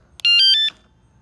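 The anti-theft alarm on a 2021 Sur Ron X electric bike chirps as it locks, a short bright electronic beep of about half a second heard close up and alone.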